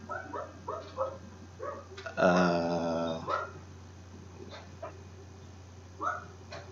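A dog whimpers and barks indoors, with several short yips and barks, then one longer, loud whining howl in the middle, followed by scattered fainter barks.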